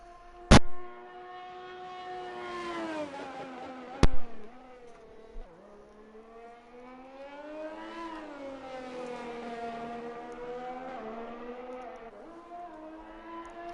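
Open-wheel race car at Imola circuit during qualifying, engine note droning steadily with harmonics rising and falling as it revs through gears, two sharp bangs early on, loud and continuous with no talk.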